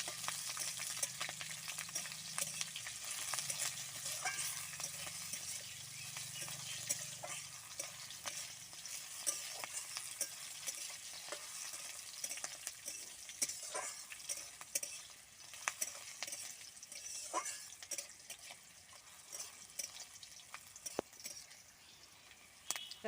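Boiled taro stolons and green chillies being stirred in hot oil, with a steady close sizzle and scattered scraping clicks of a spoon against the pan throughout, no voices.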